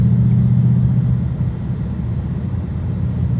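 A Ford Mustang GT cruises on a highway in performance sport mode, a loud, steady low engine and road rumble heard from inside, with no talk.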